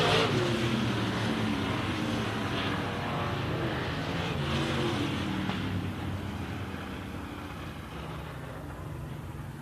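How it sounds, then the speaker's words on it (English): Midwest Modified race cars roar through a heat race on a dirt oval, a steady dense engine drone sustained throughout, fairly distant and continuous with no talk. "He's going to get one here tonight in the heat race, coming off a turn 3 and 4 with Dunbar in his tail"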